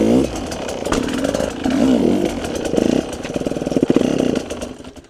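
Motorcycle engine revving hard as the clutch is popped for a wheelie, a loud, close, rasping roar that rises and falls in pitch over several seconds.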